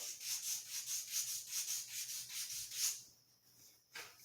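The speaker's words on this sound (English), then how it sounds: "pretty much all I do is I sand to a point where you can't see the laser, the burn" Sanding the rough burrs off laser-cut edges by hand, a close, rhythmic back-and-forth rasp of about a dozen strokes that stops near the end, followed by one last brief scrape.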